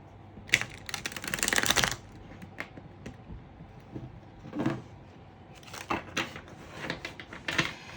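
A deck of tarot cards is shuffled up close in bursts, with quick riffling flutters and sharp papery snaps separated by brief pauses and soft handling sounds.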